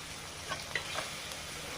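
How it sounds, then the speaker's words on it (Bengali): Fried fish pieces and spices cooking in hot oil with chili make a soft, continuous sizzle, with a few brief stirring clinks and scrapes in the middle. "মাছগুলো ভেজে রেখেছি, ঝাল দিয়ে ভেজে নিচ্ছি।"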